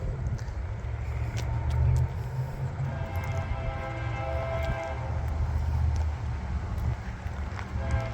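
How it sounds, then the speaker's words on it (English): A CSX intermodal freight train approaches slowly, a low continuous rumble of engines and rolling cars with faint horn-like tones, heard from a distance and fairly quiet. "we have a train, another intermodal coming on the way."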